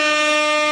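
A soundboard air horn effect gives one short, loud, steady blast with a buzzy, brassy tone, alone and lasting under a second.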